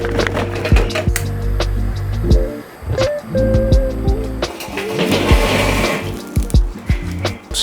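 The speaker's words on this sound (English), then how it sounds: "So we got our fire going" A grill fire of Fogo charcoal briquettes burns while being set up to smoke wings, with close, loud crackles, sharp snaps and scattered clinks and scrapes all the way through. No one speaks.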